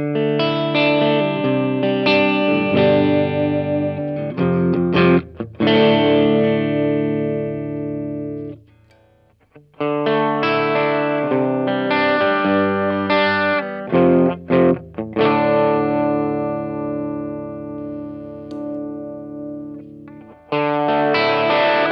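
An electric guitar through an OverRider distortion overdrive pedal by Trooper Electronic, with a heavy overdriven, distorted tone, plays sustained chords and phrases, briefly pausing before it resumes.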